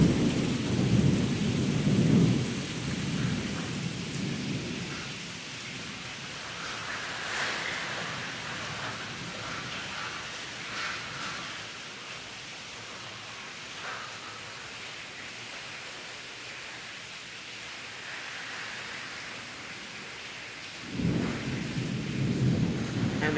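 Thunder rolls through a Florida summer afternoon rainstorm, heard from indoors as a broad steady roar with low rumbling swells at the start and end, under a constant hiss of heavy rain.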